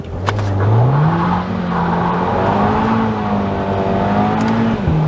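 An Audi launches under hard acceleration from a standstill with the traction control off. The engine note climbs steadily and loudly through the gears, close by, with one sharp shift near the end.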